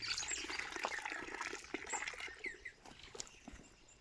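Water poured into an azolla pond, a steady wash of splashing and trickling that runs through the whole moment at moderate loudness, with no talking.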